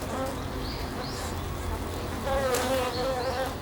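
A swarm of honeybees buzzes densely around a trapped wasp, a steady close-up hum of vibrating wings with a slight swell in loudness midway, and no talking.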